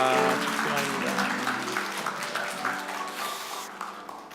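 A church congregation claps at a New Year's Eve service, the applause fading over a few seconds beneath lingering sustained musical tones and a voice in the background.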